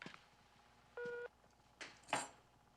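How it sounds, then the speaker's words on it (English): A short, clean electronic tone holds steady for about a quarter second, followed by faint clicks and rustling on a quiet line. "If you want to leave a message, please wait for the little beep."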